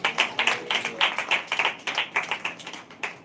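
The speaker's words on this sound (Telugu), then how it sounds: "చప్పట్లు కొడదామా?" A church congregation clapping in rhythmic unison, a quick steady beat of sharp claps filling the room for a few seconds, close and fairly loud.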